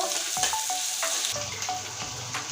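Close, steady sizzling of chopped onion browning in oil with cumin in a pan, punctuated by several distinct knocks and scrapes of a stirring spatula against the metal.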